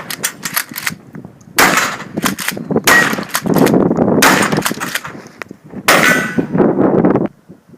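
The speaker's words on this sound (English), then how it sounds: "we'll be shooting a 3-inch double-aught buck round at that. So we'll see what that looks like with a modified choke" A Remington 870 pump shotgun fires 3-inch double-aught buckshot through a modified choke, with loud sharp close blasts and metallic clanks that come in several bursts, some rapid and some spaced out.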